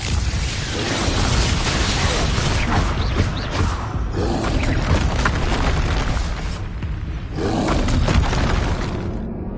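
Confringo spell blasts in the Hogwarts Legacy video game, a sustained run of booming, shattering explosions with crackling debris that dips briefly and then surges again, loud and continuous without talk.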